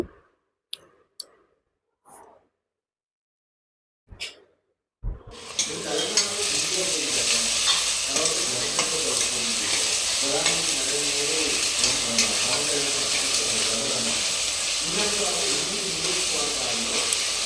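Chopped onions frying in a pan for a Sunday mutton curry, stirred while salt goes in; a few soft clicks give way to a loud, continuous close sizzle with scraping from the stirring.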